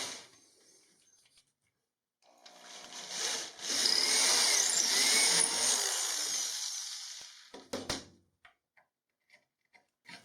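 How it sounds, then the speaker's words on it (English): A power drill bores a hole through a wooden board, a loud whirring grind of a few seconds that rises, holds steady and then cuts off, followed by light taps and knocks. "First I drill the hole for the washer, and then based on that smaller hole that is there right now, and then the one for the bolt."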